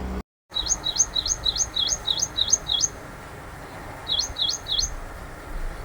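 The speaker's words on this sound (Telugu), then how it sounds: "చూడండి ఎంత మంచిగా అరుస్తుందో పక్షి" A bird in a plant nursery sings a run of about eight quick rising chirps, pauses, then adds three more. It sounds clear over a soft hiss of background noise, and no one speaks.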